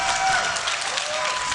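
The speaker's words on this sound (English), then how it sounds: "let me hear you cheer in the audience" Esports arena crowd at a League of Legends Season 1 World Championship grand final applauding and cheering for Fnatic, a dense, steady wash of clapping and crowd noise sustained throughout.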